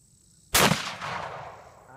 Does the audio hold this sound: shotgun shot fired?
yes